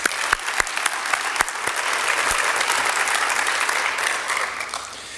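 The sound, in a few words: audience applause at awards ceremony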